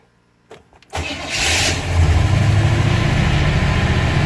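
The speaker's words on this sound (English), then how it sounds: "I'm going to do a cold start of the car now" A 1955 Hudson Rambler cranks briefly on a cold start, catches and roars into a loud, steady choked idle, heard close with no talking.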